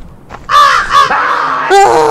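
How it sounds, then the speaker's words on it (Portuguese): A crow in the horror game Devil's Toy gives loud, harsh caws, two quick rasping calls followed by a longer drawn-out caw and a final squawk, close and clear. "O corvo do cão, hein, velho?"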